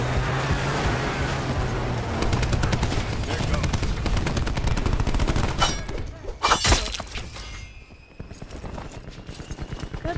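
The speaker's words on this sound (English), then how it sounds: "Trying to get with that shotgun" Shotgun and other gunfire in the video game Call of Duty Black Ops 4 crackle in a dense burst, then a couple of sharp louder blasts stand out amid game noise.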